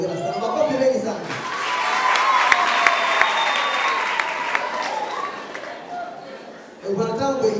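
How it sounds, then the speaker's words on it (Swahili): Guests at a couple's wedding ceremony break into a sustained, full round of applause with some cheering. Talk comes briefly before it, and a voice picks up again as the clapping fades. "Makofi mengi sana."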